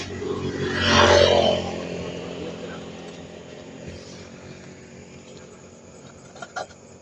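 A motorcycle with a mechanical fault revs once at night, swelling briefly and then settling into a steady idle hum, with faint insect chirps and a couple of small knocks near the end.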